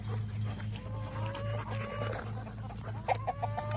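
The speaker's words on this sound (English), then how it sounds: "You want to come in here and feed the chickens?" Chickens in a backyard coop cluck and call in short rising notes over a steady low hum, with a few sharper squawks near the end; the fowl sound fairly close and moderately loud.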